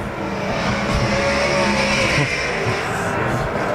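Sprint cars race in a USAC/CRA heat late in the laps at Arizona Speedway, a loud continuous engine roar with the field strung out single file, steady and dense throughout with no pauses.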